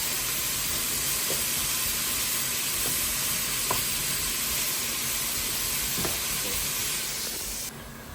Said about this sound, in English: That mince is starting to brown nicely.